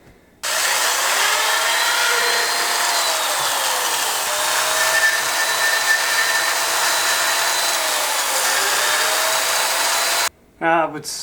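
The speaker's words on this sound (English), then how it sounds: "So I got this drill attachment that works pretty good." A high-pitched rotary tool drill attachment grinds turkey wing bone continuously for about ten seconds at close range, with a steady buzzing whine that shifts slightly under pressure.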